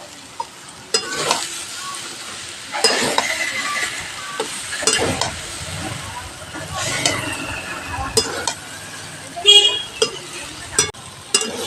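Spices and cumin powder being sautéed in a pan, intermittent sizzling with clattering stirring and scraping strokes at irregular intervals, plus a few sharp knocks and a faint horn-like tone in the background.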